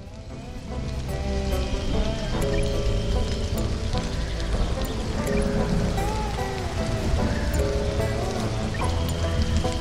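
Rain falls steadily in the video game Stranded: Alien Dawn, a dense, even patter that continues throughout, overlaid with scattered game tones and faint musical notes.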